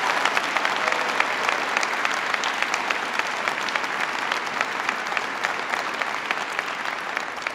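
Crowd applause at the 2009 Recovery Act signing ceremony, a dense steady wash of many hands clapping that holds evenly throughout, with no speech over it.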